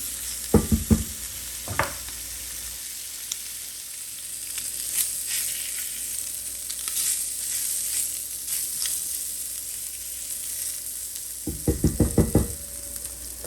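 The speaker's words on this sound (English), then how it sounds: "So that's why I cook my sausages separately." Sausages sizzle steadily in a pan, cooked separately for a gumbo, with a constant bright hiss broken by clusters of scraping, knocking stirs near the start and again near the end.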